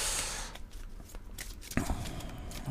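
Angel oracle cards are shuffled by hand, giving a soft burst of riffling and then scattered light slaps and flicks close by at a low level.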